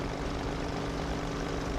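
A propeller fighter plane's engine drones in War Thunder, a steady loud dense roar with no breaks and no talk over it.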